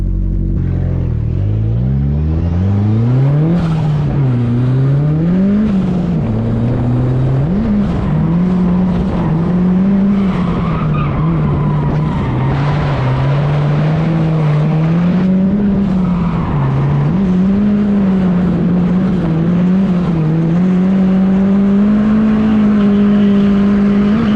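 A car on small 205/50 tires held revving hard in third gear while spinning its tires into smoke, a loud continuous engine drone rising and wavering in pitch with screeching tire squeal throughout.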